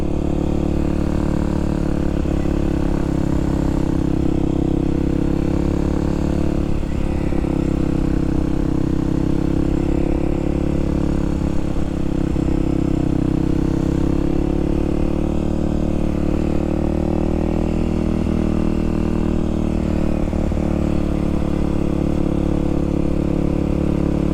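A motorcycle pulls away and shifts up to second gear: a steady, close engine drone with small rises and dips in pitch as the throttle and gears change, running continuously without talk.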